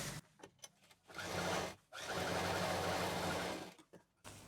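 A sewing machine stitches a patchwork shopping bag with a printed and a plain panel, running in two steady whirring bursts of about a second and two seconds, with short stops and faint handling noises between them.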